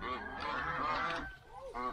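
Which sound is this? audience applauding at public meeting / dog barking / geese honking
geese honking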